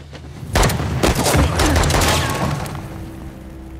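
Loud close gunfire in Uncharted: The Lost Legacy, a rapid string of sharp cracks and booming shots beginning abruptly, then a thick volley that slowly thins out toward the end.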